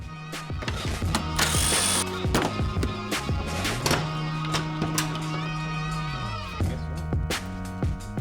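Ratchets and hand tools click and whir in quick bursts while the front clip is removed from a 2024 Toyota Tacoma in a shop, with clanks and a sustained whirring power tool run midway.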